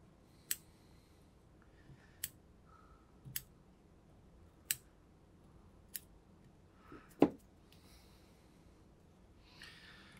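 Sharp scissor snips trim excess thread at a fly-tying vise while a Golden Dorado streamer is tied, with about six crisp, isolated cuts spaced roughly a second apart, close and clear over a quiet room, with no talking.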